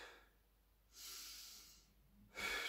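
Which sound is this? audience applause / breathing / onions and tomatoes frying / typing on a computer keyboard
breathing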